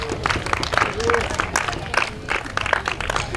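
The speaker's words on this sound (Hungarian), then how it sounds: "kérek nekik egy nagy tapsot." Crowd applause for the old boys' team taking third place at a 2016 village festival in Tihany, Hungary, a steady mass of clapping running throughout with voices mixed in.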